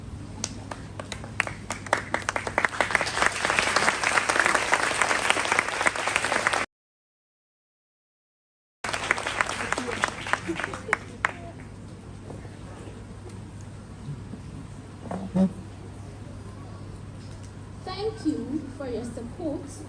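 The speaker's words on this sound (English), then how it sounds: "May I please invite the graduates to stand and give a round of applause to their parents?" At a school graduation ceremony, graduates applaud their parents: a hall full of loud, sustained clapping that cuts out briefly, then returns and fades to scattered claps with faint murmuring voices.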